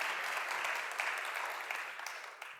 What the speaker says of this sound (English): So please, round of applause for our speakers.